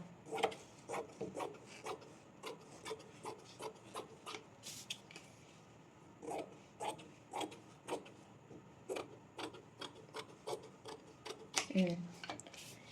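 Scissors cutting fabric along a straight drawn line for a bonnet produce a close series of short, crisp snips in an even rhythm, with a brief pause midway and a slightly busier burst near the end.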